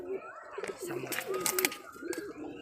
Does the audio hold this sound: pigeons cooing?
yes